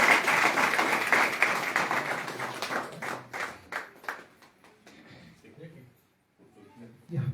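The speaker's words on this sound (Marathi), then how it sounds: "वेबसाईट ओपन झाली की भारतातील लोकांनी जोरदार टाळ्या वाजवून स्वागत करायचं आहे" An audience applauds loudly to welcome the launch of a village website, the clapping thinning out into scattered claps with voices murmuring as it fades.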